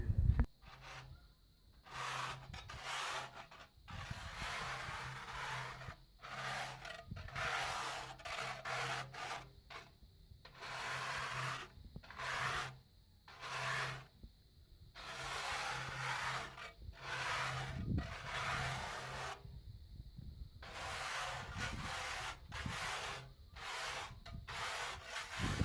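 A tool scrapes rough plaster ridges off the wall of a water tank in steady, close, gritty strokes, broken by short pauses, over about twenty-five seconds with no talking.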